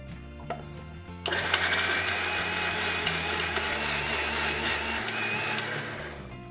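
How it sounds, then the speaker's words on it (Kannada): A kitchen mixer grinds coconut, curd and cumin into a paste for pumpkin majjige huli. It starts abruptly and holds a loud, steady whirring roar for about five seconds before winding down. "ಹಿಂಗೆ ರುಬ್ಬೋದು ಏನೇನ್ ಹಾಕಿದ್ರಿ ಕಾಯಿ ಮೊಸರು ಜೀರಿಗೆ"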